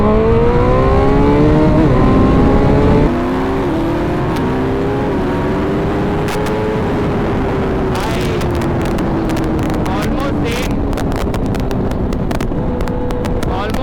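A Suzuki Hayabusa superbike engine revs hard on a highway, its pitch climbing through gear changes, with strong wind rushing past the microphone.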